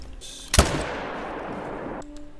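A single loud rifle shot fired at a moose while hunting in the video game The Hunter: Call of the Wild, a sharp crack followed by a long rolling echo that fades over about two seconds.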